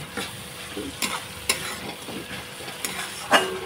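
Spice masala being stirred and fried in oil in a pan for Bengali shol fish kalia, soft sizzling with intermittent scraping clicks of a spoon, close and fairly quiet, no talking.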